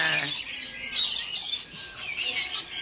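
Birds squawking and chirping at a bird park, in a continuous, fairly close chorus of shrill calls with no talk.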